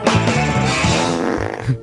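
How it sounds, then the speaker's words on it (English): A fart sound effect plays loud and close, a long wet rasping blurt lasting under two seconds. "You played the fart"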